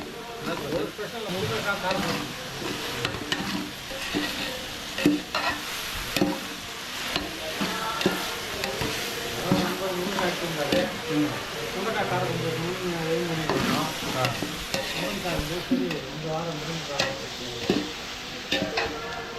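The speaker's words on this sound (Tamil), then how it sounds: "இந்த வெங்காயத்தை வதக்கணும்" Onions sauté until golden in a large pot of drumstick kara kulambu being cooked for forty people, a continuous sizzle broken by repeated stirring and scraping of a ladle, while a person talks over the cooking throughout.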